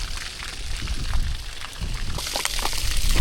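Water running and splashing in park water features, a steady broadband hiss and patter heard close by outdoors, growing slightly louder toward the end.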